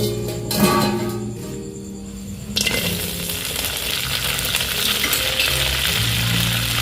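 Food frying in a pan, a loud, steady, crackling sizzle that jumps louder a few seconds in with occasional stirring clinks, close and continuous.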